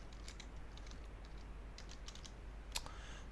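Faint typing on a computer keyboard, a scattered run of light key clicks at irregular intervals over a low steady background hum, with no talking.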